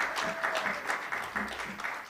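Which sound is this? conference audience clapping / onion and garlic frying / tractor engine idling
conference audience clapping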